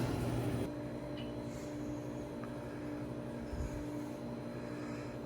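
Harvest Right freeze dryer running steadily while freezing sliced kiwi, a constant low mechanical hum and drone with no breaks.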